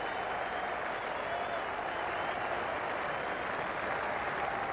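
Dense, steady applause and crowd noise from spectators at an England versus New Zealand Test cricket match at Old Trafford, a continuous broad wash of clapping heard from a distance.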